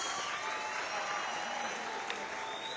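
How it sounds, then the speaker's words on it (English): Quiet, distant applause from the crowd at a South Africa Freedom Day celebration, an even wash of clapping with no talk over it. "one more round of applause"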